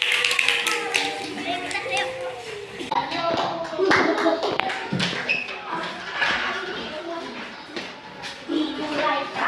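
A classroom group of students claps for the kinesthetic group, uneven taps and claps mixed with thumps and children's voices chattering throughout.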